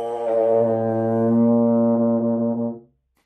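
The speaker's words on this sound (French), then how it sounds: "Et ça, c'est le son du tuba." A tuba sounds one long, loud, steady low note for nearly three seconds, rich in harmonics, then stops cleanly into silence.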